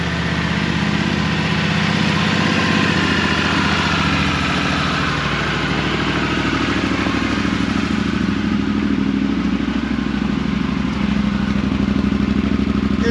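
A motorcycle engine idles on a cold morning near Puerto Natales in Patagonia, with temperatures near freezing, a steady close mechanical rumble and clatter running throughout without pauses.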